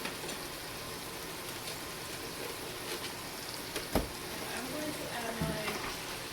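Stewed vegetables with meat, green seasoning and chopped habanero pepper being stirred in a frying pot, a soft continuous sizzle with occasional scrapes and clinks of the spoon against the pot, fairly quiet and without speech.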